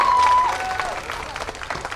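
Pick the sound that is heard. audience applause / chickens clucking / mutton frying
audience applause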